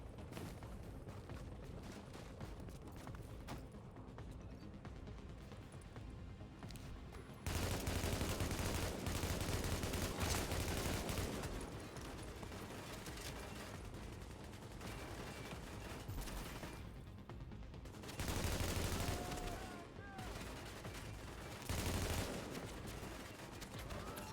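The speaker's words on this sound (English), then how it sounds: "Machine gun or something" Long stretches of machine gun fire in The Division, rapid rattling bursts at close range that swell louder in several waves over a constant background of combat noise.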